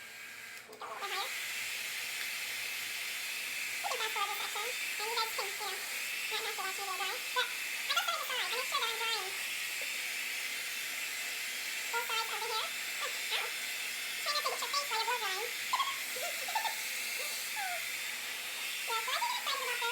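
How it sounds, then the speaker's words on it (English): A steady, airy hair dryer blows continuously throughout while a person talks over it. "I go ahead and I get my trusty dryer"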